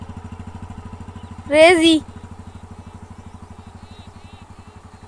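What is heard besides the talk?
motorcycle being ridden by a learner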